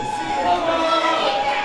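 At a powerlifting championship deadlift, a large indoor competition crowd roars and cheers steadily, with shouts rising through the noise and a commentator speaking over it.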